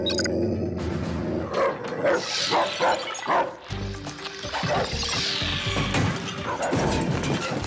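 Cartoon dogs bark repeatedly and loudly in an animated scene, with crashing and clattering noises mixed among the barks throughout.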